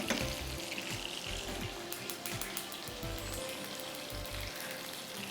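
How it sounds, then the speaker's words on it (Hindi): White sesame seeds roasting in a pan give a faint, steady crackling sizzle, with soft stirring knocks and scrapes scattered throughout. "सफ़ेद तिल हैं जिसको हमें भूनना है"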